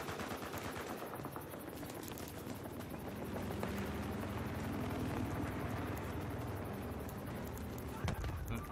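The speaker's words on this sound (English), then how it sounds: "I keep forgetting there actually is a chopper on the map." Helicopter in the Battlefield Hardline multiplayer game, a continuous rotor drone mixed with bursts of gunfire from the match, fairly faint and steady throughout with brief bumps near the end.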